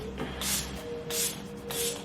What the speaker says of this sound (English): I use the Hydra Grip Spray as well, but this is like a refreshing spray